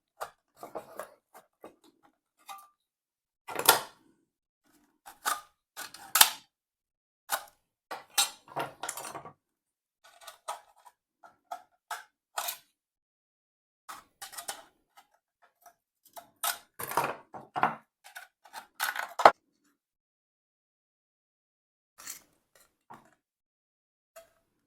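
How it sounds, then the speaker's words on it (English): Sharp metallic clinks and scrapes as a tin can lid is cut, coming in scattered short bursts with quiet gaps between them, close up and fairly soft. "Made a little cut in the lid as well."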